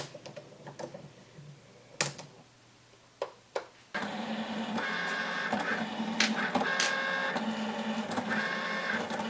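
A Cricut Maker cuts with its fine point blade: a few sharp clicks and taps at first, then a steady mechanical whirr with a motor hum, carriage movement and intermittent ticks, close and fairly quiet.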